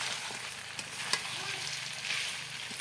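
Mutton frying in oil in a pot over a clay stove at a village home, a soft continuous sizzle with a few faint clicks and no talking.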